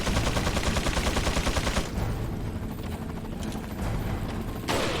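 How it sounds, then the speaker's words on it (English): Rapid enemy gunfire in Resident Evil 4, a fast burst of dense rhythmic shots for about two seconds, then quieter mechanical rattling and a final sharp burst near the end. "Wait for him to stop shooting"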